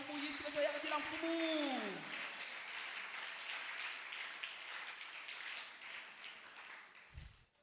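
Church congregation applauding and cheering, a broad wash of clapping and voices that follows a sung or shouted phrase and gradually fades.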